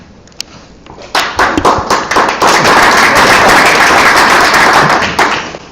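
An audience applauds in a room, starting as a few scattered claps and swelling into dense, steady clapping that holds for several seconds before tapering slightly.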